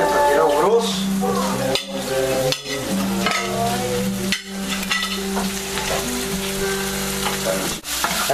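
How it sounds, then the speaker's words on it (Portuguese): Onion, calabresa sausage and watercress sauté in a pan with a steady, close sizzle, broken by stirring scrapes and clinks of utensils against the pan. "Então nós estamos refogando aí a cebola, demos uma fritada já no, na calabresa aí, e refogando agora junto aí o agrião."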